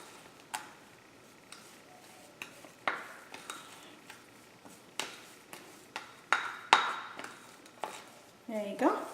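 Peanut butter cookie dough for a three-ingredient low-carb keto recipe is mixed by hand in a bowl, giving faint, irregular taps, clinks and soft squishing knocks spaced through a quiet room.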